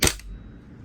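A WE 888 416 gas blowback airsoft rifle fires a single sharp, close shot that cracks and then quickly fades into a short, quiet tail.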